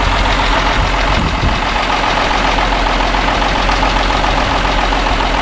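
A 1959 Mercedes-Benz 220S Ponton engine idles steadily and loudly, a continuous low rumble with a faint ticking texture, heard up close with no talking throughout.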